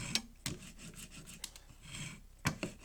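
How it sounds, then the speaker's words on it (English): A rubber brayer roller smooths wallpaper over a mirror frame, giving faint, soft rubbing and scraping strokes in short, irregular passes with a few sharper brushes of contact. "I don't want to get any wallpaper paste on the brayer, but it is just smoothing the surface beautifully"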